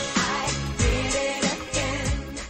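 An original pop song plays for a brain-scan music reconstruction test, with a steady beat of deep kick drum hits under a dense, bright mix of instruments at moderate volume.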